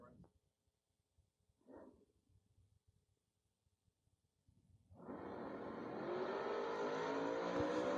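A Chevelle and a 1981 Camaro launching off the line at a drag strip, heard as a sudden loud engine roar that swells and holds after quiet moments with brief talk, the rising engine pitch filling the last seconds.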